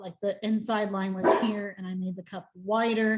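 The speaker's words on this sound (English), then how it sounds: "Sorry about my dog." A pet dog barks and yips intermittently nearby under a person talking steadily, the barks blending with the speech.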